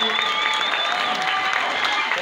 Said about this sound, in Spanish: Un aplauso, bien, ¿no?